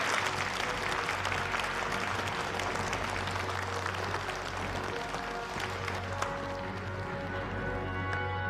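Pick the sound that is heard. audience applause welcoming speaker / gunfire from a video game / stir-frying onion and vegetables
audience applause welcoming speaker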